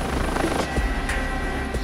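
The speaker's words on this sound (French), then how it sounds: "l'hélicoptère." A mountain rescue helicopter flies close and loud, its rotor thudding in a continuous rapid beat over a steady turbine roar.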